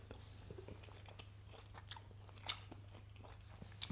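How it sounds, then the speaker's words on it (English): Someone chews thick, chewy beef jerky close to the mic, with soft wet mastication and occasional crunchy bites over a low steady hum. "Beef jerky is like, it's thick, it's chewy, it's like a bubble gum."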